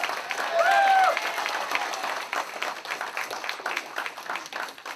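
A party audience at a Republican victory celebration in the Washington, D.C. area claps in a short, moderate burst that fades within about a second, leaving a murmuring crowd.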